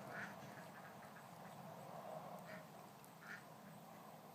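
A duck quacks in short bursts beside a swimming spot, moderately close, over a steady background wash of water and outdoor noise; no one speaks.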